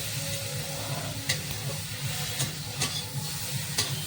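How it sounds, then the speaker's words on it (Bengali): Fish coated in salt and turmeric frying in hot oil, a steady close sizzle and hiss with occasional small pops and spatters, no talking. "মাছটা আগে ভেজে নিই, নুন আর হলুদ দিয়ে ভেজে নিচ্ছে আগে"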